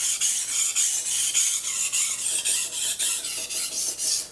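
A blade scrubs back and forth on a sharpening stone in a close, steady rasping rhythm of about a dozen strokes, with no talking.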